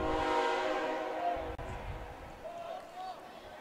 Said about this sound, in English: We got the trains going by.